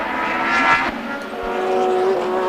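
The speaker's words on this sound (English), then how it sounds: "And there was Hulm just ahead there in 4th place, and then Regazzoni, Stewart and Beltoise as close as they've ever been." Formula One racing cars roar around Brands Hatch at the 1970 British Grand Prix, a loud, sustained high engine whine that shifts in pitch as the cars pass close by, without any voices.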